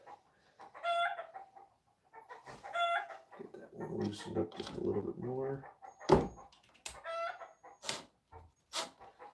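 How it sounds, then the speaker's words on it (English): A rooster crows and clucks intermittently in the background while someone talks over it, with a few knocks and clanks in between. "That's an annoying ass rooster, let me tell you."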